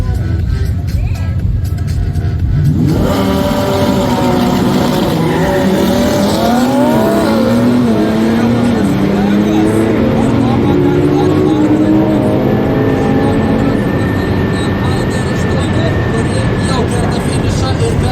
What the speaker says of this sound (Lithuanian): Kęstučiui Gyliui Audi R8, 9 sekundės 28